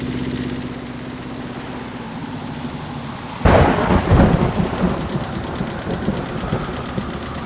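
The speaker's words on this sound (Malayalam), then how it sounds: "നല്ല ഇടിയും മഴയും ഉണ്ടല്ലോ." Heavy rain falls steadily, then a loud close thunderclap breaks in sharply and gives way to a long rolling rumble over the continuing downpour.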